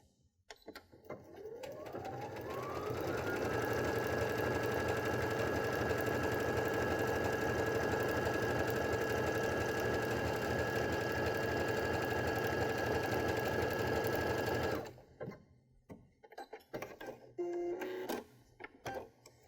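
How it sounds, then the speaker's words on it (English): A Baby Lock sewing machine fitted with a Garment Maker foot stitches a row of decorative stitches in fabric, a steady fast mechanical whir that rises, holds for about twelve seconds, then stops, leaving quiet handling noises. "complete my next row of stitching"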